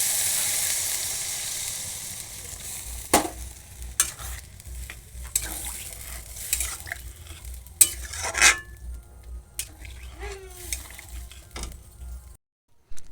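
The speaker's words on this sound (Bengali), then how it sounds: "এখন আমি পরিমাণ মতো জল দিয়ে দিব" Water poured into a sizzling potato-prawn masala in a pan gives a sudden burst of hiss and bubbling, followed by sporadic stirring clatter and fading sizzle against a quiet low hum.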